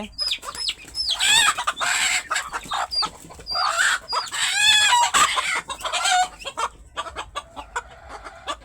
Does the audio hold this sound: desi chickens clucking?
yes